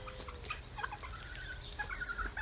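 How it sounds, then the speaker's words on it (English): Chickens cluck and warble softly from a large garden chicken coop with indoor and outdoor space, a scatter of short calls over a faint, steady background, no talk. "the chicken area, or a chicken coop, where all these chickens are living quite happily."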